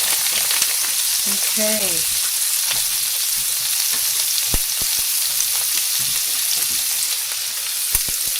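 Peppers frying in a pan set to 400 degrees sizzle steadily and loudly up close, with occasional sharp pops and crackles; a brief voice speaks once early on.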